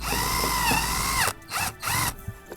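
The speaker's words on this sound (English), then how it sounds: "Just get my little drill." A small handheld power drill drives screws in short bursts: a loud, whining motor run that rises in pitch and then stops, followed by two shorter whirring pulses separated by brief silences.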